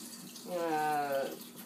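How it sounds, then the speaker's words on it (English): Tap water runs over iced, salted cucumber slices being rinsed for bread and butter pickles, swelling into a brief close, hollow stream for about a second before easing off. "I'm just going to keep rinsing them through to get all of that salt off that we've already put on."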